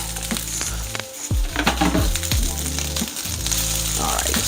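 Shrimp fried rice with sticky rice sizzles and fries loudly in a pan, close up, with a steady crackle broken by sharp clinks and scrapes from stirring.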